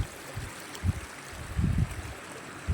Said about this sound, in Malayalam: ആ വെള്ളം വീഴുന്നെങ്കിലും അതിന് നല്ല സൗണ്ടും ഉണ്ട് കേട്ടോ